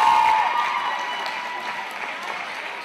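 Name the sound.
crowd applause for volleyball team and seniors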